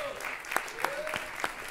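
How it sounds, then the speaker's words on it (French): Audience applause for a juror at a francophone slam poetry championship final in Le Mans, a moderate spread of clapping with a few sharper claps standing out, a faint tone running beneath it. "vous pouvez applaudir Ange du Nord-Ouest"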